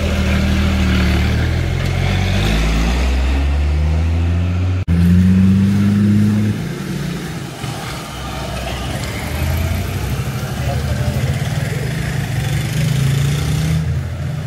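A loud motorcycle engine revs up and holds high, drops abruptly, then rumbles and surges again, close to the microphone, at a car wash.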